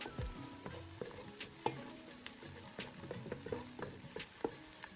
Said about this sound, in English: Stir well and fry for another 30 seconds.